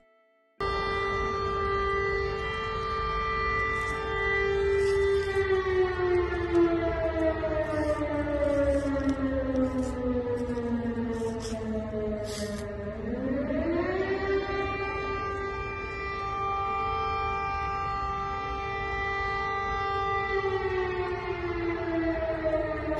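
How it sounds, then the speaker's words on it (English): Air raid civil defense siren wailing in Donetsk, one long loud tone that slowly falls in pitch, then sweeps back up and holds, sounding alone with no voices. "Air raid sirens, not air raids,"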